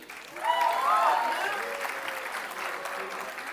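Audience applause at a BBA convocation ceremony, a steady wash of clapping hands from a seated crowd that swells quickly and holds, with a faint announcing voice over the top.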